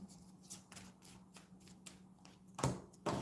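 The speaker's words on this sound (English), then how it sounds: "Let's get one more card out." Tarot cards are shuffled and drawn in quiet, repeated riffling flicks with soft taps and slides, close and low in level, ending with a couple of sharper snaps.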